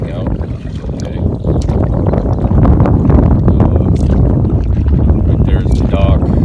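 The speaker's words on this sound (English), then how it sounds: "Paddling this kayak is a good upper body workout." A fishing kayak is paddled across open water early in the morning, giving a steady rushing wash of water and wind buffeting the microphone throughout, with a few sharper splashes and knocks near the end.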